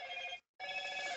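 A telephone rings with a steady electronic trill, broken by one short silent gap before the ring resumes, close and clear with no talking.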